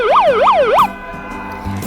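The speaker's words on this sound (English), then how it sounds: "A black police car." A black police car's siren wails in a rising and falling yelp, three quick loud sweeps up close before cutting off into quiet background noise.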